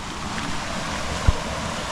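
Water from a small garden waterfall pours steadily as a broad, even wash of sound, near and fairly constant, with a single soft knock partway through and no voices.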